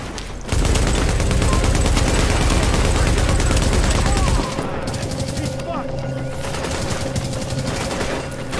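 Dense gunfire in The Division at night, a sniper among the shooters: a loud, rapid burst of automatic fire for several seconds, then a lighter continuing crackle of shots.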